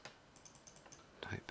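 Keystrokes on a computer keyboard while setting up a Vyatta firewall in VMware Cloud: a few soft, quiet clicks spread out, then a short, louder burst of taps near the end, with no talking.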